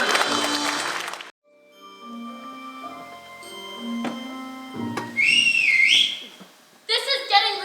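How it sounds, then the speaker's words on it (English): Whistling during a summer camp stage musical of Peter Pan, with a series of short sustained whistled tones and a rising, warbling high whistle near the end, loud and close, with voices faintly in the background. "this incessant whistling won't stop"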